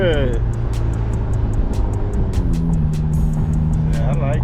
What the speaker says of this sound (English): You hear the turbos kick in.